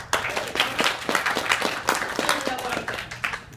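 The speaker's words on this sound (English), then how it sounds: "Let's give Siobhan a big clap." Audience clapping at a talk, a steady spatter of many hands lasting a few seconds with the crowd filling the room, fairly close and continuous, with faint voices mixed in.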